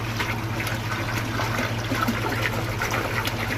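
Water from a watering can pours steadily into a garden pond filter to flush it out, a continuous close splashing and gushing with a low hum underneath, unbroken throughout.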